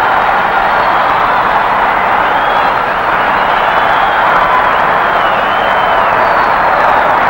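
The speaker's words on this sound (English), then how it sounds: "The huzzas of the crowd." A boxing arena crowd roars at the bell ending the 12th round of a Jake LaMotta bout, giving a loud, continuous wall of cheering and clapping that stays dense throughout with no break.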